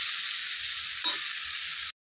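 Salted home-grown leafy greens fry in a pan with a steady, close hiss and sizzle that stays even before cutting off abruptly.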